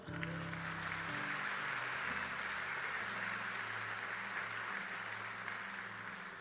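A church congregation applauds during a live worship service, sustained dense clapping throughout at a low level, with a held organ or keyboard chord tones droning underneath.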